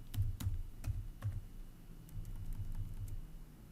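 Typing on a computer keyboard, with close, fairly quiet key clicks in short irregular bursts, some keystrokes louder and spaced apart over a soft room background.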